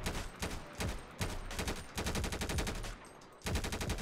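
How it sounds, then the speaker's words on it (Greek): Video-game gunfire with enhanced sound effects in GTA RP: loud bursts of rapid automatic shots in several strings, separated by short pauses, each burst ending in an echoing tail. "Ακούστε λίγο τους ήχους από το όπλο."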